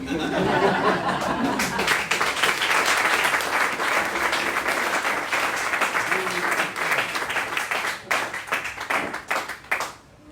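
Audience applause after a talk: dense, steady clapping from a large crowd that fills the room, with scattered laughter mixed in, then thins and fades toward the end.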